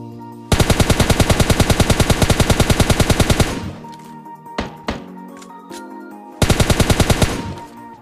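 M416 fire in PUBG Mobile Lite rattles out as a long, loud, evenly paced automatic burst lasting about three seconds, followed by a few scattered impact thuds and then another short burst.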